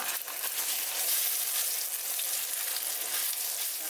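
Pounded curry paste frying in hot oil for a Thai-Lao mok khilek dish, a steady dense sizzle filling the whole stretch at close range with no voices.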